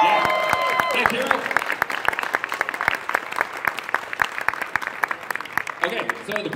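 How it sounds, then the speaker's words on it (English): Audience at the Everfree Northwest 2022 convention applauding, a dense patter of clapping that starts strong with a voice over it, then thins into scattered claps before a voice returns near the end. "Can we get a round of applause for Hero Sashi, by the way?"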